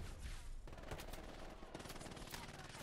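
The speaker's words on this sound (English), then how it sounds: "There's a machine gun peppering me now." Rapid bursts of machine gun fire in the video game Hell Let Loose rattle loudly and continuously, with sharp close shots layered over a dense barrage of gunfire.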